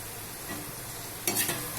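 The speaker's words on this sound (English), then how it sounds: "A little more gold on the potatoes, and then we will remove them from the oil" Potato pieces deep-frying in hot oil for sabudana khichadi, a soft steady sizzle with a brief louder burst of bubbling and stirring near the end.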